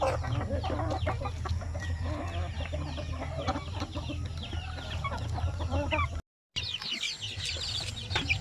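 Native chickens and small chicks clucking and peeping on a farm, a steady overlapping chorus of chatter with occasional louder calls, continuous throughout with a brief dropout near the end.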